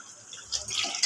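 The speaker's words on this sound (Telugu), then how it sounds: "కొంచెం వాటర్ పోసేసి 10 నిమిషాలు ఉడకనిచ్చి తీసేయాలి" Water poured into a cooking pot makes a brief splashing, trickling rush that swells in the second half of a short moment.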